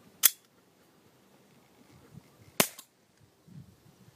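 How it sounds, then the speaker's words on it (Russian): Two sharp gas pistol shots, about two seconds apart, fired with an expired domestic Teren-3 gas cartridge; each is a short, loud crack followed by quiet, with no voices. "Также мы еще раз выстрелим отечественным патроном Терен 3, но срок годности на этот патрон уже истек."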